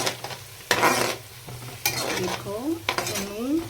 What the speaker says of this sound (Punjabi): ਹੁਣ ਇਹਨੂੰ ਵੀ ਚੰਗੀ ਤਰ੍ਹਾਂ ਨਾ ਮਿਕਸ ਕਰ ਲਾਂਗੇ ਪਿਆਜ਼ ਵਿੱਚ